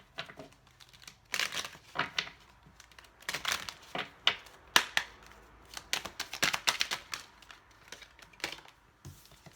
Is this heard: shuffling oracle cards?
yes